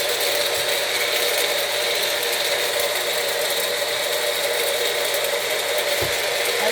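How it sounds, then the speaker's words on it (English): Ginger and tomato are being blended for a detox juice, and a blender motor gives off a loud, steady whirring drone that holds on without a break for several seconds, close up and with no talking. "I just want to make sure the ginger is all blended out."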